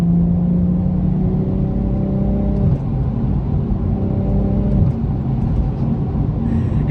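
A BMW sports car idles and revs with a loud, rumbling exhaust, the deep engine drone holding steady with a couple of shifts in pitch, close and continuous throughout.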